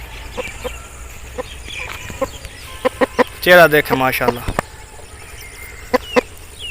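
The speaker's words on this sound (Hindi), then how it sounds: "दूसरा मुर्गा लाखे कलर का मेरे हाथ में है" An Aseel rooster clucks repeatedly in short, close clucks while someone talks over it, with one louder, drawn-out vocal call in the middle.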